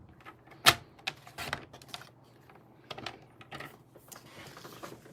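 A paper trimmer slices through cardstock, giving a quiet series of short clicks and one sharp snap, with a few soft taps and rustles around it.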